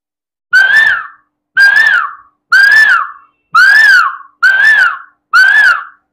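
A voice imitating a koel call: six loud, evenly spaced rising whistled cries, each about half a second long, separated by short silences and heard close up with no other sound.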